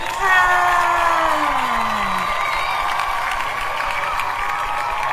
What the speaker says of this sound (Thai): เสียงปรบมืออันเกลียวกราวของเรา